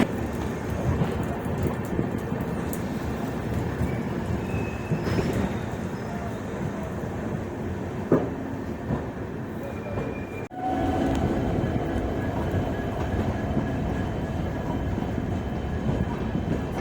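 The 12042 Shatabdi Express, hauled by an electric locomotive from Jalpaiguri toward Howrah, heard from inside a coach as a steady, dense rolling rumble with a few sharp clunks and a brief dip partway through.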